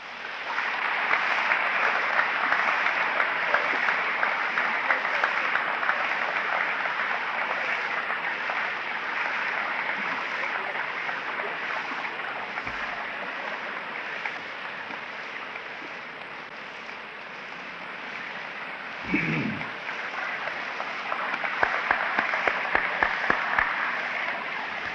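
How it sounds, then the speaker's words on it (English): A large audience at a 1975 university summer commencement applauds at length after a speech, with dense sustained clapping that eases slightly midway before swelling again, all from a hall-wide crowd. "the warmth of that applause can say better than I how much all of us enjoyed this"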